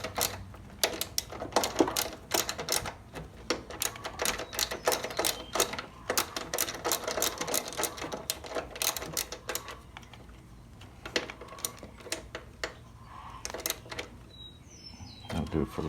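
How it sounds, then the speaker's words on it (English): Hardware bolts on a zero-turn mower's starter solenoid are tightened with a hand tool, producing rapid sharp ratcheting clicks in bursts, close and fairly quiet, with short pauses between runs. "let's start tightening our hardware up."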